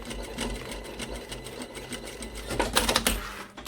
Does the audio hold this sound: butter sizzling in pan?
no